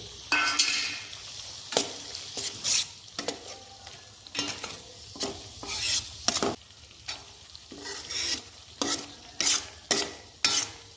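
Pointed gourd with slit green chillies and sugar sautés in a pan, a soft continuous sizzle broken by a steady series of close, sharp scraping stirs at irregular intervals, with no voices.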